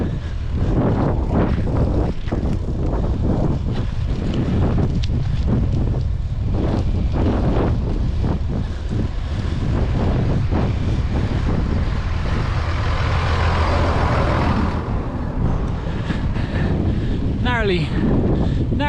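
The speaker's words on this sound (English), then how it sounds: "Narrowly avoided being run over by a big tractor with a plough on the back." A big tractor towing a plough passes on a narrow country road, its low engine rumble building and fading under heavy wind buffeting as it goes by close, with a voice heard early on.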